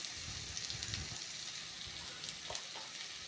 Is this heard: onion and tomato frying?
yes